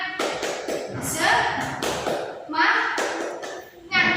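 A teacher claps out the rhythmic "tepuk semangat" ice-breaker, a quick patterned series of sharp taps and claps mixed with spoken and chanted voices, close and moderately loud.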